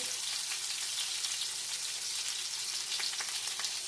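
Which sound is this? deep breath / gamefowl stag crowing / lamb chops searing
lamb chops searing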